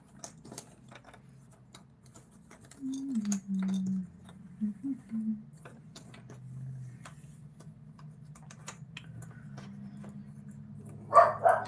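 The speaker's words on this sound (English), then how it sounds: "Oh, my dog. Here she goes again." A pet dog barks indoors in a short run of mid-distance yips and woofs, then goes quiet under a low steady hum, with a faint clatter at the end.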